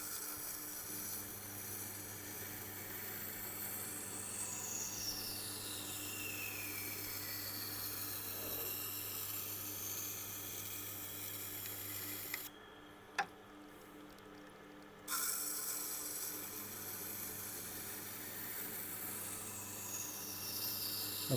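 A ceramic knife is sharpened on a Tormek grinding wheel: a steady low motor hum and soft continuous grinding drone run throughout, cutting out briefly for a couple of seconds midway before resuming.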